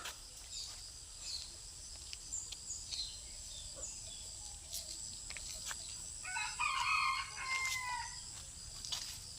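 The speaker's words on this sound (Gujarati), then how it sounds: "દેશી મરઘો" A desi rooster crows faintly in the distance at a zoo, against a quiet outdoor background, with a few scattered bird calls around it.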